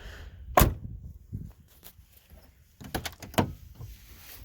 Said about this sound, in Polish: Dobra, otworzymy jeszcze przednie drzwi.